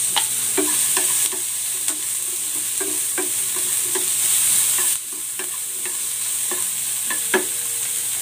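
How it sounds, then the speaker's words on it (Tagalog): Ginger, garlic and onion sauté in a hot pan, a steady close sizzle broken by repeated scraping and clacking strokes of a spatula stirring the aromatics, with no talking. "Luya, bawang, ilalagay ko na rin tong sibuyas."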